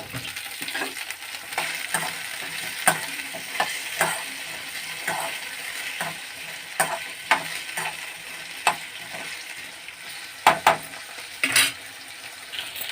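Okra (bhindi) pieces fry in a pan with a steady close sizzle, broken by frequent scraping stirs and sharp clinks of a utensil against the metal, no voices.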